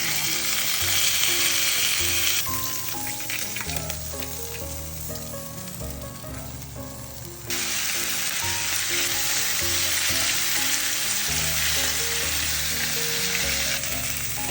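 Chicken inasal frying in a pan, a loud, dense sizzle throughout that drops and swells as pieces are turned, with occasional clatter of a utensil and no voices.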